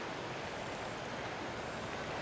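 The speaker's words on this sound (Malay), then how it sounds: "Nampak air sungai pun laju." A fast river rushes steadily at a campsite, a constant broadband wash of flowing water heard faintly from a short distance, with no voices.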